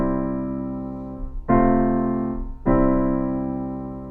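Three sustained piano-like chords demonstrating a neighboring or pedal 6/4 progression, each struck cleanly and left to ring and decay, with the second and third entering at roughly one-second intervals; no talking.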